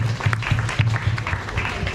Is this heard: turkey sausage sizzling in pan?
no